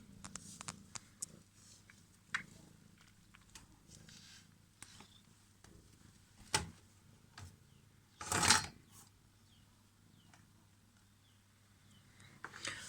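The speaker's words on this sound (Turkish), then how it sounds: "Sokak kedimiz de geldi." A street cat with scratches and wounds on its nose purrs softly and continuously, close by, with scattered small clicks and rustles and one louder scraping noise.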